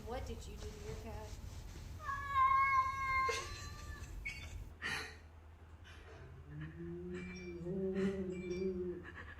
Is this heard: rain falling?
no